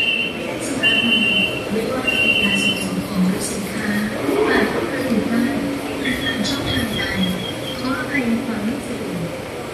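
A BTS Skytrain pulls into the Siam station in Bangkok with a steady, loud rolling rumble and faint high squeals, while someone talks over the noise.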